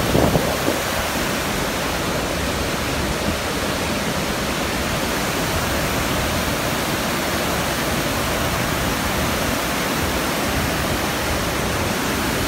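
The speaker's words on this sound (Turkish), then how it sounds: "Arkadaşlar bu şelale kendiliğinden oluşmuş bir şelaledir." The Palovit waterfall on the Ayder plateau in the Kaçkar mountains gives a loud, continuous rushing roar of falling water, unbroken and close for the whole stretch.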